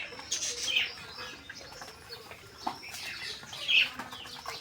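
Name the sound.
pigeons flapping wings and calling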